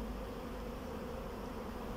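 Swarming honey bees fill the air with a dense, steady buzz, a constant close drone without pauses and no voices over it.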